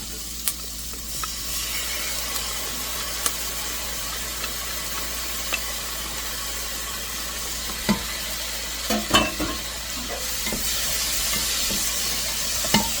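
Garlic and translucent onions sauté in a soup pot for ham and chicken white bean soup, giving a steady low sizzle with occasional spoon stirs and scrapes, a few sharper knocks near the end.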